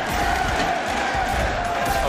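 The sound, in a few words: New York crowd cheering at Street Fighter 6 tournament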